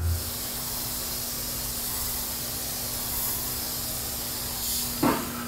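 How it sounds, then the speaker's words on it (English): A steady hiss of spraying clear polyurethane finish onto the interior of wooden drawers fills the clip, with a faint constant hum underneath and a short clunk near the end. "Then we're gonna spray down the interior of our drawers with that same clear polyurethane."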